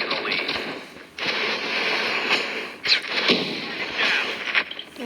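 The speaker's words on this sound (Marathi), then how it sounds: "माझ्याकडे फायरवाली गन मिळाली मला, आगेवाली गन, त्याच्याने मारूया आपण आता" A flamethrower in a Call of Duty ranked match roars in a continuous, broad whooshing blast with brief breaks and surges, alongside other game gunfire, while a player talks over it.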